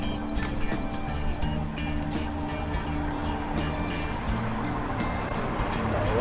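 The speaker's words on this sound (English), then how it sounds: "Lots of cars today." Cars pass along a busy Waikiki street in Honolulu, a steady moderate traffic hum with engine tones and tire noise rising and fading as vehicles go by, heard from the roadside.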